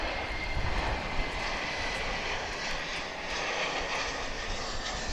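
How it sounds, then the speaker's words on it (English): An American Airlines Airbus A321 from Seattle comes in to land at Dallas/Fort Worth International Airport, its engines giving a steady, loud broadband roar that holds evenly throughout with no voices. "Yonder comes American Flight 2769 from Seattle, and Airbus A321."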